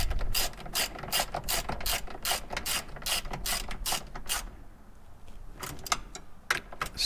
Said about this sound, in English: The little ratchet.